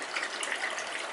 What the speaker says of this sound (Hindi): 2 कप पानी डाल देंगे